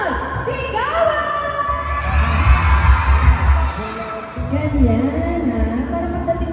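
Crowd at a mall show cheering and shouting in a loud, sustained roar, while an amplified host's voice calls out over a booming sound system.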